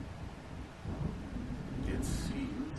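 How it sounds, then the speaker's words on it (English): A thunderstorm rolls in over open water in the video game Alan Wake, its deep thunder rumbling steadily and building slightly under a wash of rain-like noise, with a brief hiss late on. "It seems there's a storm coming."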